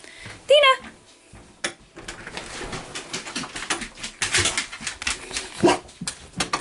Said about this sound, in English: They don't know what they're barking at, but they're annoying me